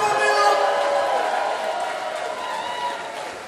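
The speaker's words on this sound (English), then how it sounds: "to our lovely merch lady, Milla Miettunen, give a big round of applause!" A rock concert crowd at a live show claps and cheers in a broad, steady wash of noise that fades slightly toward the end, with no voices standing out.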